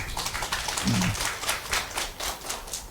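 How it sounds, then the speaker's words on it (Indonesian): Audience clapping for a young performer at an event, a steady patter of many hands with a rhythmic pulse, fairly close and continuous, with a brief low voice murmur in the middle. "Tepuk tangan dulu buat Nadila."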